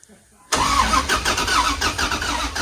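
After a near-silent moment, a damaged 5.7L Hemi engine cranks and abruptly catches. It then runs loudly and roughly at close range with a pulsing idle.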